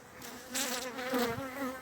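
Steady insect buzzing from many honeybees at an opened hive during hive care in November, a dense droning hum with wavering pitch that swells and fades, close and continuous.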